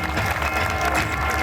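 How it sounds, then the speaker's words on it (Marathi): Audience at a village primary school's annual gathering gives a dense, brief burst of applause, a continuous wash of many hands clapping with faint cheering mixed in. "एकदा जोरदार टाळ्या होऊ द्या."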